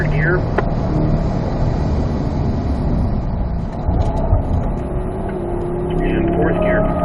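A C8 Corvette accelerates in third gear on a racetrack, heard from inside as a loud, steady engine and road roar that holds throughout.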